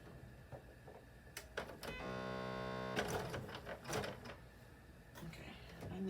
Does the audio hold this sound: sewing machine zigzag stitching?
yes